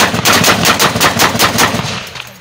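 Rapid machine-gun fire during combat in Congo, loud and close, with dense repeated bursts that roll on for about two seconds before tapering off, and no voices.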